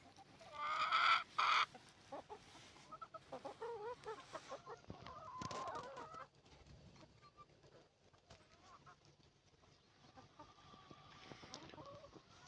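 Chickens cluck and squawk nearby, with a loud burst of cackling early on, then softer scattered clucks continuing in the background.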